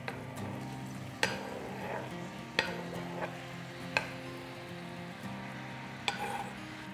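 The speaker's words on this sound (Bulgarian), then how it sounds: "Лукът вече се е задушил и към него мога да добавя нарязаните домати." Chopped tomatoes go into stewed onions in a pan, bringing a soft sizzle with a few sharp utensil knocks and stirring scrapes spaced out over a quiet background.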